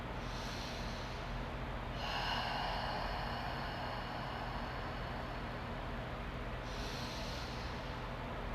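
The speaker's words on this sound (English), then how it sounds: "Deep breath in, deep breath out." Slow, deep breaths during a yoga class, a long airy exhale swelling over steady low background hum, close and fairly quiet, with no words spoken.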